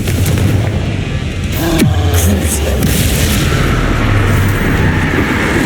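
A Confringo fire-blast spell from Hogwarts Legacy goes off in a loud booming burst with a sharp descending whoosh, then a rumbling low roar that lingers over dense game ambience.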